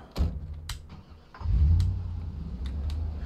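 A hotwired car engine in the zombie survival game Project Zomboid cranks briefly, then catches and settles into a steady, close, low idle rumble, with no talk over it.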